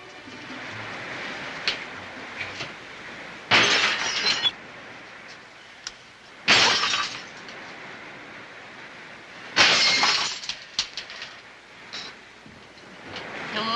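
Drinking glasses smashed indoors one after another, with four or five loud bright shattering crashes spaced a few seconds apart and quieter tinkles and room noise between them.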